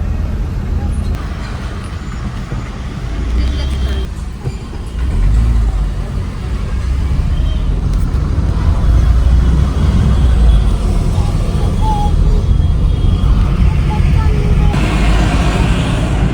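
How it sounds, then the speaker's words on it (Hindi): Heavy road traffic in a jam on the road to Mussoorie, a continuous loud rumble of car, bus and truck engines close by, steady throughout with no clear talking. "तो बहुत ज़्यादा ट्रैफिक है।"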